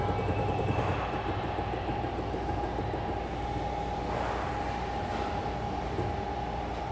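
A servo-driven ball screw module runs continuously during an auto-tuning routine, giving a steady mechanical whir and hum with a faint high whine, moderately loud and unbroken, with no talk.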